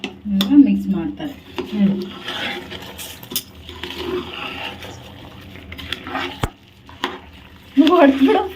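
Chicken biryani being stirred and mixed in a pot, with scraping spoon strokes, metallic clinks and a faint sizzle, under intermittent talking voices.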